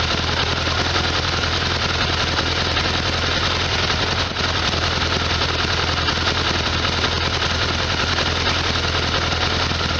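A 1973 VW Super Beetle air-cooled engine held at high RPM, a loud, steady, dense rasping roar that barely changes for the whole stretch, with no talk over it.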